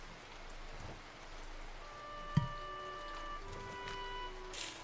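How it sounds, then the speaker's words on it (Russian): Light rain in a video game, a faint, steady patter of drops under soft game music tones, with one brief sharper splash. "Совсем ваш дождик никакой."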